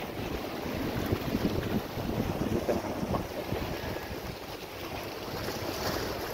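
Strong wind roars steadily across the microphone on a seashore beside moored fishing boats, with fish roe laid out drying on rocks; broadband gusting rumble fills the whole stretch, and surf is faintly audible beneath.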